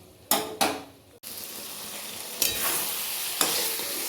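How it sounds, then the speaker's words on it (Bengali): Bombay duck (lote fish) curry frying in a pan, with a steady sizzle and a few sharp scraping strokes of stirring, close and fairly loud, no voices. "এইভাবে অনেকক্ষণ নেড়ে চেড়ে শুকনো করে নিতে হবে"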